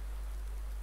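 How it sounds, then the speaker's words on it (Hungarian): Steady rain in Farming Simulator 19 gives a constant, even hiss under a strong low hum, with no other sounds. "Esik az eső, nagyon-nagyon szomorú vagyok miatta."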